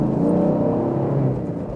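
A 2016 Ford Mustang GT V8 accelerates hard from inside the cabin, its deep engine note rumbling loudly with a rising, throbbing growl over the short burst.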